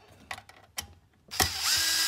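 Screws being backed out of the cord wrap area of a Kodak 850H: a few faint ratcheting clicks, then a louder, sustained whir of a powered screwdriver turning close by.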